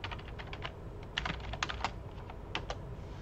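Fingers tap out a password on a computer keyboard during a server install, a quiet, quick patter of light key clicks with a few brief pauses, and no voices.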